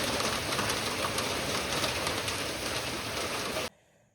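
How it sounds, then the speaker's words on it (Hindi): Heavy rain pours steadily in a dense, loud hiss with no voices, then cuts off abruptly near the end. "क्या खतरनाक बारिश लगी हुई है, ढांडे पड़ रहे।"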